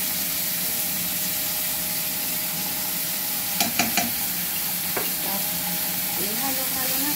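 Lamb is stirred and fried with brown bean paste in a steady, hissing sizzle. A few quick clinks from the utensil against the pan cut through midway.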